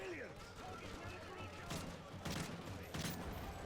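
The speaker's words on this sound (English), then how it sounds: "Are they shooting the civilians?" Soldiers' gunfire in Call of Duty: Modern Warfare 3, several sharp bursts of shots around the midpoint and near the end over a dense battle din, fairly faint.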